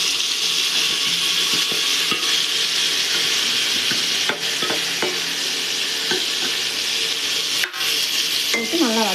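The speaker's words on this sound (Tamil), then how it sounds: "போட்டு நல்லா வதக்கிக்கலாம்." Mint and coriander leaves sautéing in a pan make a loud, continuous sizzle, with scraping stirring strokes cutting through at intervals.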